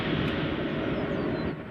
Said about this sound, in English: So this is Alaska Flight 519